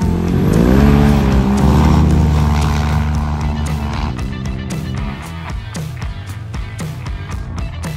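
A UTV race car engine roars loud and close during a race at St. Annes, its droning tone shifting in pitch with sharp tire and suspension knocks cutting through as it runs.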